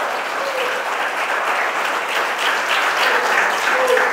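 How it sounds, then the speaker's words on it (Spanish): Church congregation clapping in praise at a service, a steady dense wash of applause holding for several seconds without a break, fairly loud and close. "¿Cuánto pueden dar palmas de alabanza al Señor Dios Todopoderoso?"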